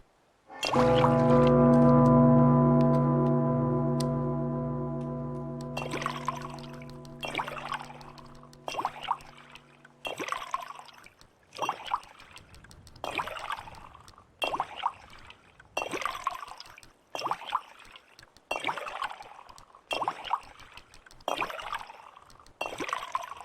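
Water being collected in the Fallout 4 Survival video game: a steady layered tone rings for several seconds, then rhythmic splashing, pouring bursts repeat about once a second at close range, with no talking.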